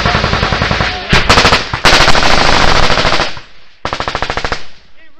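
Heavy machine gun fire in a combat ambush in Afghanistan, with loud close automatic bursts in rapid rhythmic strings, short pauses between volleys and distant echoing shots.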